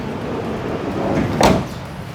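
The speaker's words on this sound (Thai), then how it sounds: "ประตูเปิดปิดได้ปกตินะคะ" The sliding door of a used 2019 Toyota Commuter 2.8 GL van rolls along its track, a soft rumble ending in a short, firm thud as it latches, heard close against a quiet background.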